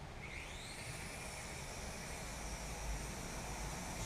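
A small drone lifts off for takeoff at night, its rotors giving a steady, close whine with a rising pitch sweep at the start, then a constant broadband hiss throughout.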